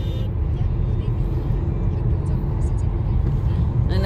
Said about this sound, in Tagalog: Ito ang expressway ng South Korea.